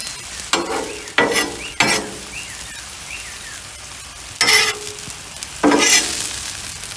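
Fried rice stir-frying on a hot griddle, a steady close sizzle broken by several sharp scraping spatula strokes in bursts, with no voices.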